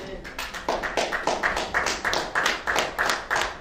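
A church congregation at an Easter service claps together in a steady rhythmic beat, loud and close, with each clap landing evenly in time.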